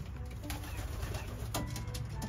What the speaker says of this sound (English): Oh, they're coming down to greet him. I got seven birds in the loft.